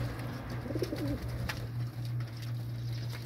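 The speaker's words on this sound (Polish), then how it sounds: "gołębie fantastycznie wskoczyły do wody i zaczęły się chlapać" Pigeons bathing in a freshly filled water dish, a steady soft cooing murmur with light splashing and fluttering close by, fairly quiet throughout.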